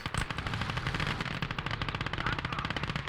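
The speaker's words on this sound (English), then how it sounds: "my artillery is shooting my own guys" Gunfire in the World War II strategy game Call to Arms: Gates of Hell, a dense, continuous rapid burst of machine-gun fire rattling throughout, loud and steady with heavy low rumble and no voices.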